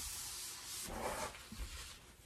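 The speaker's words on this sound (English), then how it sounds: "That I'm sanding this, I sanded this down" Short stretch of hand sanding on an oak night stand, a soft gritty rubbing that swells briefly then fades, fairly quiet and close.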